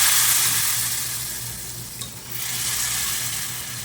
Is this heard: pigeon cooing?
no